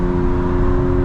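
800-horsepower BMW M4 Competition xDrive with exhaust valves open in fifth gear: a steady, loud engine drone and exhaust hum from inside the car, brief and unbroken.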